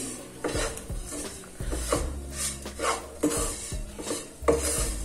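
Kachori filling being mixed in a metal pan, with a spoon scraping and clinking against the metal in uneven strokes, some knocks and a light sizzle underneath, close and moderately loud.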